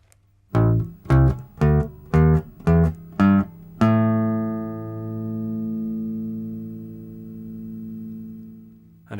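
A bass guitar plays a whole scale slowly, seven plucked notes each cut short, then a final note left to ring and fade for several seconds.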